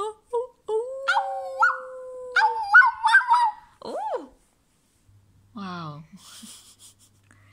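A human voice imitates owl monkeys howling, with wavering, rising and falling hoots and whimpers in several short bursts, separated by brief silences.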